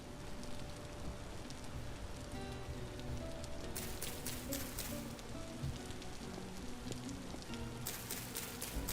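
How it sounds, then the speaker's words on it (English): Steady rain falls in a survival game, a constant dense hiss of drops on surfaces with brighter bursts of heavier patter coming and going, no voices over it. "I don't mind rain until you hear it constantly"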